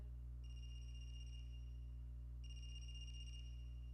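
Two bursts of an electronic phone ring in the video game AI: The Somnium Files, a warbling high-pitched trill repeating about two seconds apart over a steady low hum.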